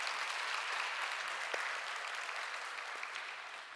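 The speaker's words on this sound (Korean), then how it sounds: "먼저 격려와 감사의 박수 한번 올려드릴까요?" A church congregation applauds in thanks and encouragement during a worship service, a dense, steady wash of many hands clapping that holds evenly for several seconds and tapers slightly at the end, with no voices.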